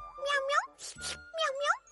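A cartoon cat meows twice in a Hindi-dubbed animated episode, two clear rising mews close up, with a brief voiced sound between them.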